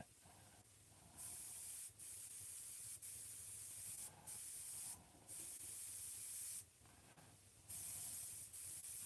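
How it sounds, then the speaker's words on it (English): Airbrush spraying on a piece being prepared for Indian ink, heard as several steady hissing bursts of one to two seconds each with short pauses between them, close and moderately loud over a faint background hum. "So you want to airbrush this piece."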